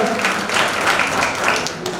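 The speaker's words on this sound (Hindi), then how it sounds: "सेपरेट बैंड जोरदार तालियों से उनका स्वागत" Dense, steady applause from a crowd welcoming a band at a Vishwakarma Jayanti procession, with a continuous rattle of many hands lasting the whole stretch at an even level.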